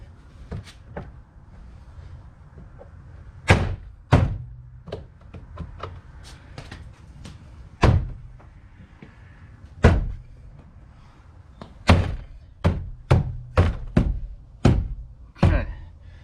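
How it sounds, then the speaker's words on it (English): Plastic clips of a 2013 Honda CR-Z passenger door panel snap into place with sharp thunks and knocks, scattered at first and then in a quick run of firm pops near the end, close and fairly loud over a quiet room. "let's see if we can't get this door panel back on now properly."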